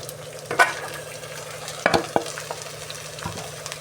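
Chopped ivy gourd (dondakaya) hitting a pan with curry leaves, giving a soft steady sizzle with a few sharper clatters of stirring, close and moderately loud with no talking.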